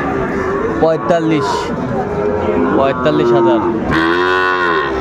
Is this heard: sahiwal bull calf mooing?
yes